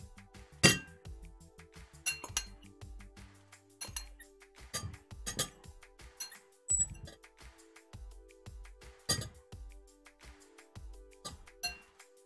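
Blueberries go into a small bowl of raspberry ice cream, with a dozen or so light, irregular clinks and taps against the bowl in a quiet room.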